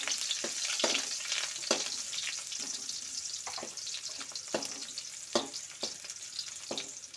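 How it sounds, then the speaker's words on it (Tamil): Chopped onion frying in about 100 grams of hot oil, making a steady close sizzle with bursts of crackle and occasional stirring scrapes, no voices. "எண்ணெய் சூடாகிடுச்சு. இப்போ நம்ம ஒரே ஒரு வெங்காயம் போட்டுக்கலாம்."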